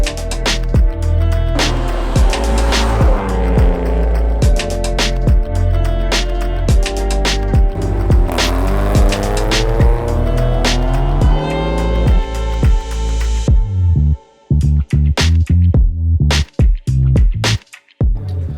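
A car runs on a rally track at a motorsport park during the Youngtimer Camp 2020 event at Motopurk Uurib. The engine is loud and close, revving up and down steadily, then breaks into choppy bursts near the end.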